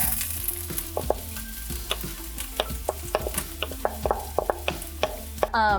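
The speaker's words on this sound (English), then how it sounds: "we're gonna take the diced onions and we're just gonna pour them into the pan" Diced onions sizzle in a hot pan while a utensil stirs and taps against it, producing scattered clicks over a steady frying hiss.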